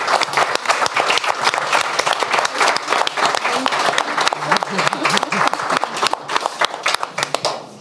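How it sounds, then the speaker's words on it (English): Audience applause at a humanitarian panel event: a dense, sustained burst of clapping from a seated crowd, loud and even throughout. "let's give them a round of applause"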